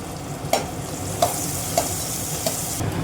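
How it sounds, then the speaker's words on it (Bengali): Onions fry in oil with cumin in a wok, a continuous close sizzle broken by four evenly spaced scrapes of a spatula stirring them. "দিয়ে একটু পেঁয়াজগুলোকে ভেজে নেব"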